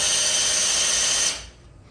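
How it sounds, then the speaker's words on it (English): A power drill spins a 598 big-block engine's oil pump with a steady, high, even whine, then cuts off abruptly near the end, leaving a faint quiet tail. "spinning at 200 RPM or whatever this drill spins"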